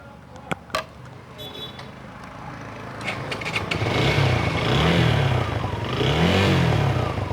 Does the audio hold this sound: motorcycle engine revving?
yes